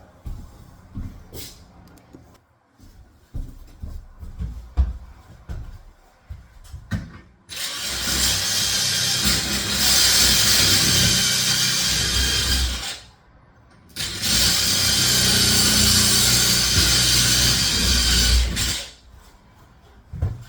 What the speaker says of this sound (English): I got 4 more holes to drill, 8 more holes to drill